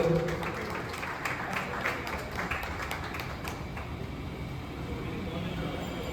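At a cricket team's prize-giving program, a crowd claps in a scattered, moderate round of applause while voices murmur underneath, with faint road traffic in the background.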